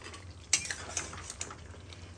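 Masala for a lobster malai curry being stirred and fried in a pan: faint, close clinks and scrapes of a spoon against the pan over a soft sizzle, a few sharper taps standing out.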